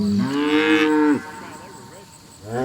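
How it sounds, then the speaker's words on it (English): A cow lets out a long, loud moo close by, then after a short quiet pause another moo begins. "and the cows."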